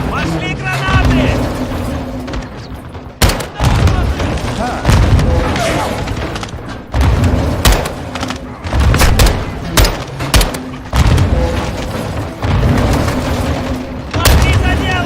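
Grenade blasts and gunfire in Call of Duty: Modern Warfare II combat, with heavy booms and bursts of shots in irregular clusters, loud and close, while voices shout over the fighting.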